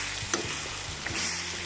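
Chicken curry frying in oil as it nears doneness, a steady close sizzle with a few light clinks of a stirring spoon against the pan.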